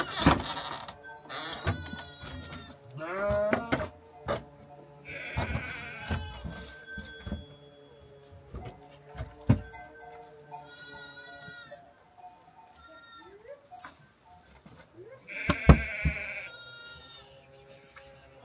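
Sheep bleat repeatedly inside a village barn, several animals calling near and far in overlapping, irregular cries with farm clatter between them.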